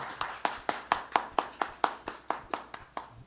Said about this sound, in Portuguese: Eu agradeço sempre a presença de todos e peço já aplausos de boas-vindas a Edmilson Caminha, que agora tem a palavra.